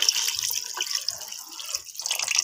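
Water pours into a cooking pot of mutton paya soup, about two glasses' worth, in a steady splashing stream that rises and falls over a couple of seconds with no talk.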